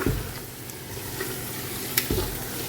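Onions and masala for chicken biryani sautéing in a pan, a soft steady sizzle broken by a few scraping stirs of the spoon, close and fairly quiet with no talking.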